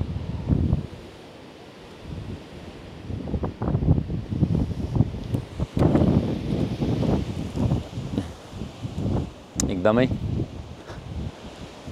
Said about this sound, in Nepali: हावा हजुरहरूले देखिरहनु भएछ कस्तो प्रकारले चलेको छ भनेर